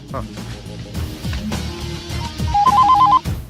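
During a comedy scene, a telephone rings in a quick run of repeated electronic trill bursts near the end, loud and close, following busy voices and background sounds.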